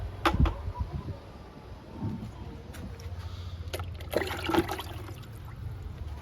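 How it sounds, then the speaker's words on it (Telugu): A few mugs of plain water tipped onto a guava plant's soil, brief splashing pours with a knock of the mug, close and fairly quiet against a soft outdoor background. "ఇంకా 2 చెప్పులు ఇద్దామండి మామూలు వాటరు."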